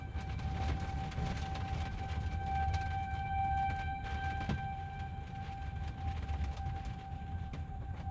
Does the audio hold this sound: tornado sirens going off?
yes